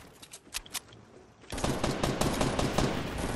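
Rapid bursts of automatic gunfire in a Fortnite squad match, a few light shots at first, then a sustained dense stream of loud firing that continues to the end.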